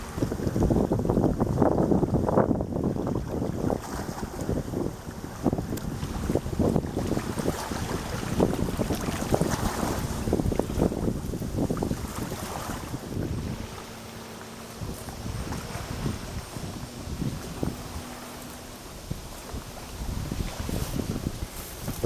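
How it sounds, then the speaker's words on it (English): Motorboats and pontoon boats pass on Chautauqua Lake, New York, a steady low engine rumble with water wash and gusts of wind noise on the microphone, continuous and moderately near, no one talking. "There's always speedboats and pontoon boats going by just constantly."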